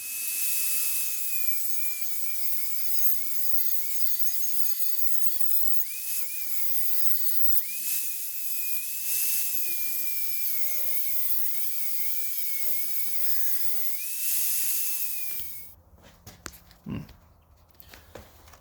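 A high-pitched rotary grinder whines steadily as excess cast metal is trimmed off a Chrysler 360 crankshaft, its pitch dipping and rising under load, then stopping and giving way to clattering handling sounds at the end.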